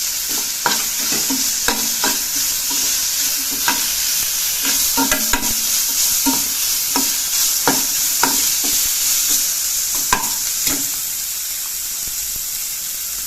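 Chicken stir-frying in a pan with capsicum and curry leaves, a steady loud sizzle throughout with repeated scraping and clinking stir strokes, close and without talk.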